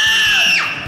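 A superhero contestant's sonic scream on a kids' talent show, one loud, shrill, sustained high-pitched shriek that drops sharply in pitch near its end, close and alone.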